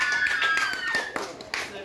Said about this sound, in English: Give them some claps.